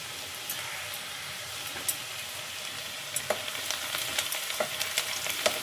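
Garlic frying in a pan for chilli chicken, a soft steady sizzle with light stirring scrapes and a few sharper clicks toward the end, fairly quiet and close.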